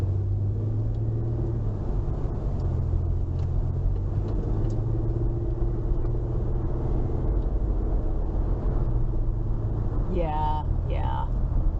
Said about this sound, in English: Oh no, that's the train going through.